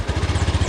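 A motorcycle engine runs close by at a steady idle, its fast, even putter pulsing low and loud for a brief moment with no voices.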